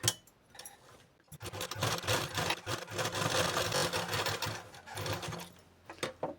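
A sewing machine runs a long basting stitch on the lining side of a katori blouse, whirring steadily and close for several seconds before a pause and a short final burst.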